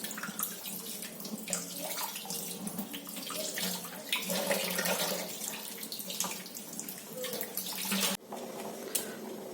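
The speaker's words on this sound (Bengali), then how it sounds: "তো আমি চিকেনটা ভালো করে ধুয়ে নিয়েছি।" Tap water runs steadily into a sink while raw chicken is washed for a thin chicken curry, a continuous close splashing stream that breaks off briefly near the end and then resumes.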